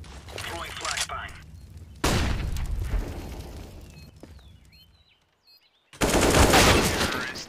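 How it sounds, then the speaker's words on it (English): A flashbang grenade in a video game goes off amid gunfire, with sudden loud bursts that cut out abruptly and leave a high ringing tone in near silence before a loud blast returns. "Throwing flashbang."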